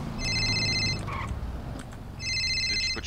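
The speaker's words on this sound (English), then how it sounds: "Why am I getting a phone call from a number I don't recognize?" A phone in the GTA roleplay game rings in two bursts of electronic trilling tones, separated by a short gap with a brief blip, loud and close over a low background hum.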